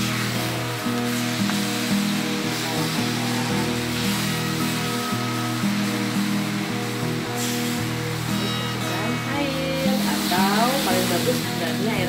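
Tempe bacem sizzling and bubbling in a pan as it is stirred continuously, a dense close frying hiss with clinking and scraping over a faint voice in the background.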